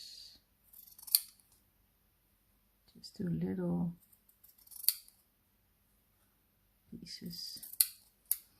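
Fabric scissors snip crafting material into small pieces, a few short crisp cuts close by with brief talk between them.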